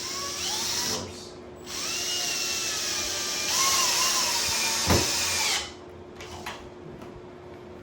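A hammer drill drives screws into a wooden crib frame: close, loud, whining motor runs with rising and falling pitch, stopping and restarting over several seconds, with brief clicks between runs.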